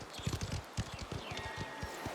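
Horses' hooves clip-clop at a steady walking rhythm in Mafia: The Old Country, a moderately close, soft clatter of shod hooves over a low rumbling background, with no talk.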